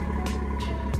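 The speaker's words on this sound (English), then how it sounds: "I start my car, and you know, my car's a little loud" A loud car engine idles and rumbles steadily close by, with a few brief bursts of broadband noise rising over the low drone.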